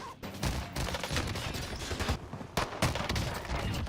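Rapid gunfire from dual Diamatti pistols fired akimbo in the video game Warzone, a dense, loud burst of overlapping shots running almost continuously with a brief gap partway through before the firing resumes.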